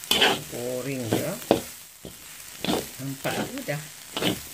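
Nasi goreng kerabu herba, herb fried rice, is stirred and fried in a pan, giving soft scraping and sizzling bursts beneath someone talking over the cooking.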